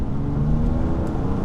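A car at full throttle on a very wet road gives a brief, steady low engine drone with a faint whir, close and continuous.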